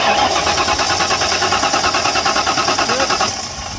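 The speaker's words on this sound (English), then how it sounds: "Make sure it's in neutral and try starting it." A '92 Foxbody car with no ignition spark cranks over and over without catching, a loud, close, steady rhythmic churn of the starter that runs for several seconds before easing off at the very end.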